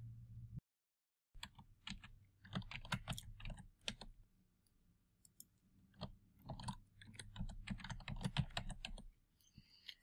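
A password is entered on a computer keyboard, with quiet, close key clicks in irregular bursts and short pauses between them.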